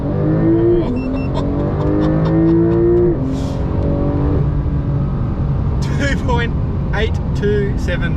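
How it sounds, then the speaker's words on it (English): A Porsche Taycan Turbo S under launch control accelerates hard from a standstill, a loud rising electric whine with climbing tones that holds steady throughout. "then we floor the throttle, launch control will activate, and we just lift off the throttle, off we go"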